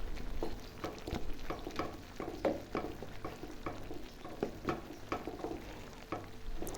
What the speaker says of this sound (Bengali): অন্য মশলা সব কিছু দিয়ে এখন নেড়ে চেড়ে দিব আমি